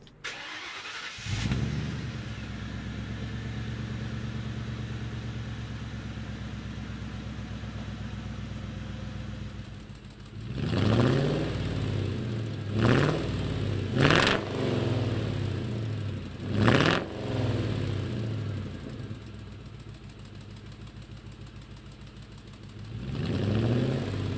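A 1955 Ford F100 pickup engine with Ford Motorsport headers and polished true dual exhaust starts and idles with a deep rumble, then revs sharply several times in loud bursts before settling back to idle.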